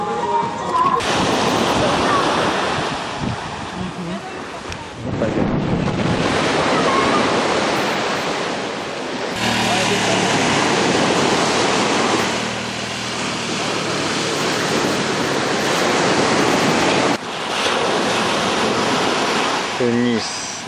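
Mediterranean Sea waves wash onto a white sand shore at Sousse, Tunisia, in autumn, a broad continuous surf roar that swells and drops with sudden cuts, close and loud, with a voice speaking over parts of it.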